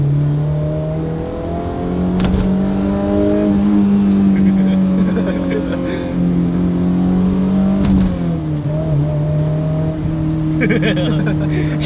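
A drift car's engine drones loudly from close by, its pitch rising and falling as it revs, with people talking over it.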